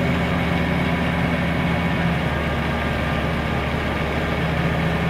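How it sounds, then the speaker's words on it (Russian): A KAMAZ dump truck delivering crushed stone for a rural road sits idling nearby, its heavy diesel giving a steady, continuous low rumble with no pauses and no voices. "Это последние два КАМАЗа получается."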